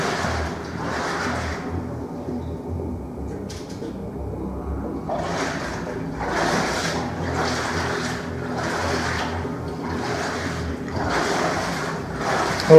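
Footsteps wading through water in a forest, rhythmic splashing and sloshing strides repeating steadily at close range, with a short quieter pause near the start.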